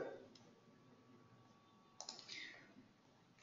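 A computer mouse clicks during work in user-management software: faint scattered clicks over a quiet room, ending in one sharp, loud click.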